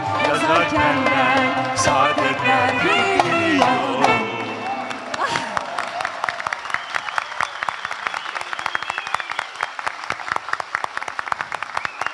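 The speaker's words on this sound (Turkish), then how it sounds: "sonsuz alkışlarınız hiç eksilmesin" Concert audience at a show breaks into loud, dense applause that follows the fading end of live music, then continues as steady, sustained clapping through to the finish.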